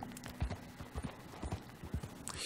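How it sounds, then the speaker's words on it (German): A horse's hooves clop in a steady galloping rhythm during Red Dead Redemption 2 gameplay, a quick run of close, low thuds at moderate volume with no talk over them. "Mein Pferd kommt außer Atem, ne, wenn ich zu lange, zu stark galoppiere."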